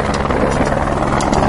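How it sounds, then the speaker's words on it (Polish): Helicopter landing near a Dhaulagiri mountaineering expedition, its loud rotor producing a dense, rapid thumping roar that stays close and constant throughout. "Helikopter landing!"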